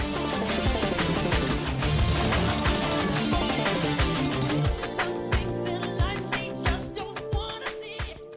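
An electric guitar drives a 1995 song, sitting in a dense full-band mix with steady drums and layered instruments, loud and continuous with no talk.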